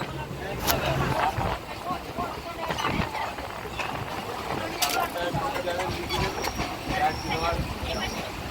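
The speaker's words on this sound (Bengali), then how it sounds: "এখন কিন্তু আমাদের ট্রেন ঢুকছে বিশরপাড়া কোদালিয়া স্টেশনে" Bongaon local train pulling into Bisharpara Kodaliya station on the Sealdah line, a steady loud rumble of rail and carriage noise with clattering bursts, under continuous chatter of passengers inside.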